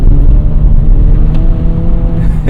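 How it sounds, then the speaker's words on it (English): Acura Integra engine revving hard on a snowy road with traction control engaged, a steady loud low drone with harmonic engine tones held throughout, no talk. "Traction control kicking in."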